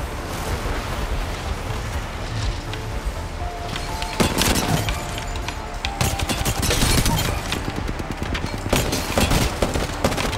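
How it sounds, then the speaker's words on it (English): Rapid bursts of gunfire in the video game Apex Legends, dense volleys of shots and sharp cracks over about ten seconds, loud and close, growing heavier in the second half. "I missed all of my goddamn shots"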